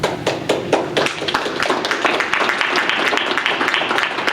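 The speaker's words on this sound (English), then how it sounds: "I would ask you to hold applause" Applause from the audience at a Manchester Board of Mayor and Aldermen city council meeting: dense, steady clapping from many hands, loud and close, running throughout without a break.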